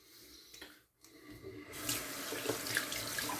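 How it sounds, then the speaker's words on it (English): A tap is turned on and cold water pours steadily into a sink, a brief quiet moment before the rushing stream starts, close by. "Gonna go ahead and rinse off with cold tap water."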